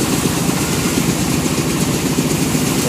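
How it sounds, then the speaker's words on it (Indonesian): A diesel engine runs at a cassava starch factory, droning loudly and steadily with a low, rumbling, vibrating idle that carries on without a break and with no voices over it. "menggunakan mesin diesel dumpeng."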